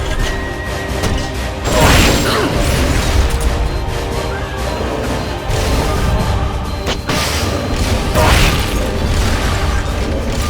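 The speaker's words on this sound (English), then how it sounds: "Launching S-mines." S-mines are launched in Metal Gear Solid: Peace Walker during a loud, dense battle, with heavy booms and mechanical bursts standing out over the continuous noise of combat.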